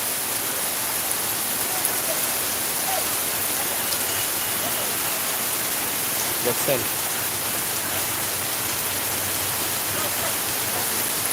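Heavy night rain pours down steadily in Sylhet, a dense, continuous hiss close by that fills the whole stretch, with a voice speaking briefly over it.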